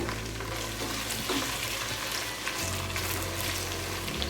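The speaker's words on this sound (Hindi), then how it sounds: "तो थोड़ी देर के लिए फ्राई करेंगे।" Whole spices sizzle steadily in hot oil in a pan for chana pulao, a continuous close frying hiss with a low hum beneath, no talking.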